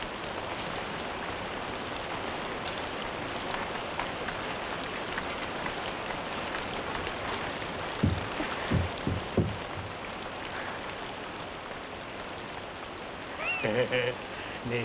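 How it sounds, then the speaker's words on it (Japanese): Steady rain falls in a dense, continuous hiss, with a few louder knocks partway through and brief voice-like sounds near the end. "いい雨だな。"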